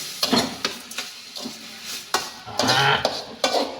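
Carrot halwa with added sugar being stirred in a pan, with repeated close scraping and clinking strokes of a spoon against metal over a soft sizzle.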